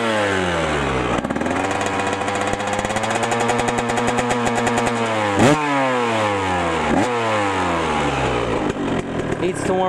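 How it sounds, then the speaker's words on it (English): A 1999 Yamaha YZ125 dirt bike engine runs close and loud. Its buzzing idle is broken by several quick throttle blips that rise and fall in pitch, with a sputtering, uneven rhythm throughout. "this is my 1999 YZ125"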